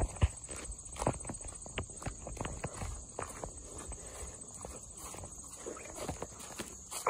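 Horses at a farm barn walk nearby, their hooves giving irregular clip-clop knocks on hard ground, moderately close, over a faint steady background hiss.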